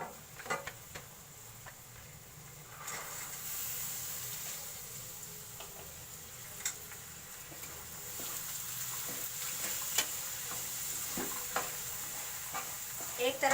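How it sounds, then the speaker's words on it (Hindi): Paratha frying in oil in a large pan, a steady soft sizzle running throughout with occasional scraping and clinks of the spatula, fairly quiet and close, with faint voices now and then. "बस ये मैं अब इसको फ्राई करके दिखाती हूँ"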